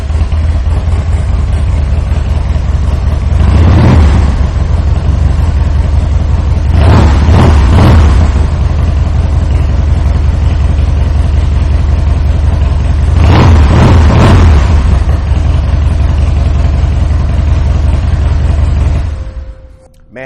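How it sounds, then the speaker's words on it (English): A 2000 Harley-Davidson Softail Springer with a carbureted engine and aftermarket Vance & Hines exhaust idles loudly and steadily close by, with three throttle blips swelling into rumbling revs before the engine cuts off. "fire this bike up so you can hear that Vance & Hines exhaust"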